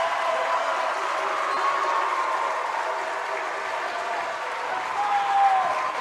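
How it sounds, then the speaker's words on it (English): A gym crowd cheers and applauds steadily as the home team enters the court at a 7th grade state volleyball tournament, a dense roar with clapping and a few higher shouts rising above it. "with the largest cheer I've heard all night."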